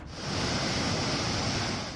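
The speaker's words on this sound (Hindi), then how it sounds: "तवा डैम पर पानी की रफ्तार को देखने के लिए लोग पहुंचे, जिसकी आवाज दिल दहला देने वाली थी।" Water rushes from the opened gates of Tawa dam after rain swelled the reservoir, a dense, steady roar that stays loud and unbroken, with no voices.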